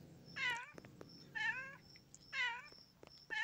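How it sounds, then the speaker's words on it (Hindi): A cat meows repeatedly in the Android horror game The Baby in Yellow, four drawn-out cries at a regular pace with short pauses between them, fairly faint and with no talk over them. "फिर द कैट, मतलब जो बिल्ली था वो चिल्ला रहा है अभी म्याऊं म्याऊं करके"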